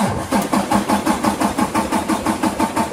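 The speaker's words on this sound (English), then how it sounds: "that is a big engine" A big twin-turbo Ford Coyote V8 cranks over in a quick, even starter rhythm, about a dozen rapid pulses in under three seconds, close and loud without catching.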